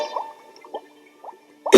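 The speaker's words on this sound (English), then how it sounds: "He was looking thoughtfully into a bubbling test tube." Bubbling liquid in a laboratory test tube gives a few soft, isolated plops spaced about half a second apart, faint and close, ending with a louder burst of bubbling.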